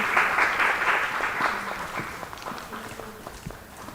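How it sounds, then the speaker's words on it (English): Audience applause at a Women's Day 2025 gathering at Aster Medical Centre in Qatar, a steady burst of clapping from a crowd that is loudest at the start and then slowly fades. "Can we have an applause?"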